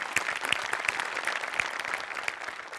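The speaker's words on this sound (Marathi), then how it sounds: "त्यामुळे सगळ्यांकरता एकदा टाळ्या" A live comedy show audience applauds a team performance, a close, brisk patter of many hands clapping with distinct sharper claps standing out, steady for a few seconds at moderate loudness.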